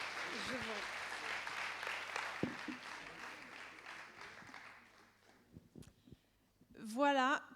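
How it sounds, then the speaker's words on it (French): Audience applause at a French awards ceremony for a finance magazine's trophies: dense clapping that gradually thins and fades, with a voice rising near the end. "On vous applaudit encore bien fort."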